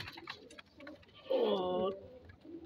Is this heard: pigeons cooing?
yes